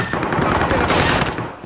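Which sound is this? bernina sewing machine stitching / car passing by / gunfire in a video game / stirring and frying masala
gunfire in a video game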